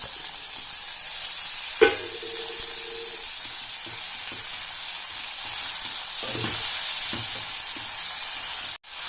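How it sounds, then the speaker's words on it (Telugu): Tomatoes and green chillies fry in oil for chicken biryani, a steady close sizzle with a sharp clatter near the start and a few soft stirring knocks, no voices. "టమాటా బాగా ఫ్రై అయితే టేస్ట్ బాగుంటుంది"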